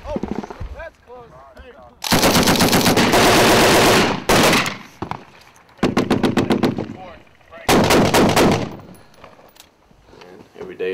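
Gunfire in an Afghanistan firefight: bursts of rapid automatic fire and single loud shots come close and sharp, separated by quieter stretches with faint distant pops and a brief voice.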